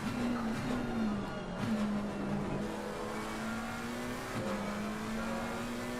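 GT3 race car engine in Assetto Corsa Competizione at the Hungaroring, a steady mid-pitched engine drone holding revs with brief gear-shift dips, close and continuous without talk.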